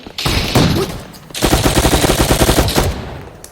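Rapid automatic gunfire from a Roblox shooter game: a short burst, a brief lull, then a longer run of tightly spaced, loud, close shots at a steady rhythm, with no talking.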